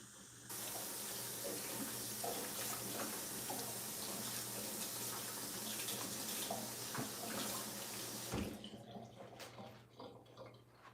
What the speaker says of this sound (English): Let me wash the spatula real quick.